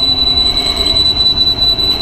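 A large motorcycle engine, revved while stationary, gives off a loud, steady, high-pitched whine like a windmill, continuous and droning with no talking over it.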